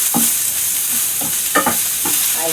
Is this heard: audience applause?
no